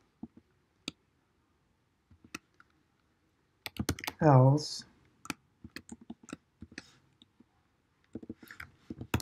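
Computer keyboard typing during a programming session, with sparse key clicks at first and then a denser run of taps. A single short spoken word breaks in partway through.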